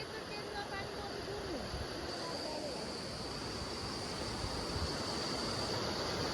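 A swollen river rushes by in a steady, loud broadband roar of flowing water, with voices faintly audible beneath it.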